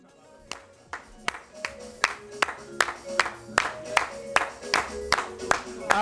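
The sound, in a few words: audience clapping for mothers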